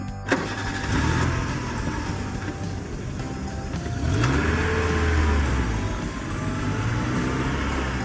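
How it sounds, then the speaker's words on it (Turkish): Toy truck engine noise from a sandbox play session: a continuous rumbling motor drone with a sharp start and swelling revs, loud and close throughout. "Kamyon kontrol et bakalım."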